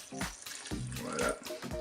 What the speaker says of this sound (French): je vais remettre un petit peu d'eau, je vais recouvrir légèrement